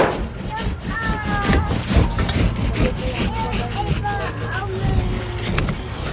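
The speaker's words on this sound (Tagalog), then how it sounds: "Kaya pag ganyan yung takbo ng roller ko." Paint roller rubbing and rolling over a woven bamboo wall of a nipa hut, giving repeated scraping strokes close by, with talking and a background melody throughout.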